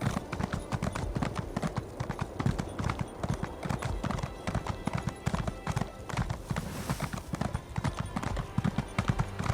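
Horse hooves in the Elder Scrolls Online video game, a dense, rapid clip-clop of a running horse heard close and loud throughout, with some intermittent talking.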